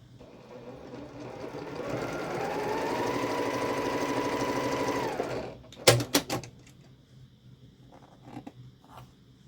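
Sewing machine stitching 2.5-inch fabric squares together into a 4-patch quilt block, running steadily for about five seconds at close range before stopping, followed by a few sharp clicks and handling sounds.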